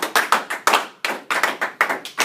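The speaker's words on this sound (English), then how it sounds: "Round of applause, let's go." Classroom clapping in a sharp, uneven rhythm, about a dozen crisp close claps in quick groups with short pauses between them and no voices.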